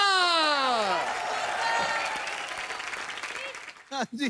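A studio audience on a comedy show applauds and cheers under an ongoing voice, the clapping steady before a brief pause and more talk.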